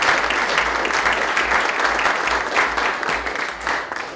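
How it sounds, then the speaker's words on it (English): A room of business school students and military veterans, including midshipmen, applauds steadily, with dense continuous clapping throughout and a low rhythmic thump underneath. "Let's give Annie a round of applause"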